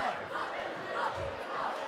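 A basketball crowd in a high school gym between Varina and Highland Springs roars after a jump ball call, a dense, steady wall of shouting and cheering voices that holds for about two seconds.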